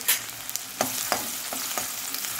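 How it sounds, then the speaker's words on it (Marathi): Chopped onion, one medium size, fries in hot oil in a pan while being stirred, a steady close sizzle with several soft scraping strokes of a spoon, no voices. "याला आपण मस्त फ्राय करून घ्यायचे"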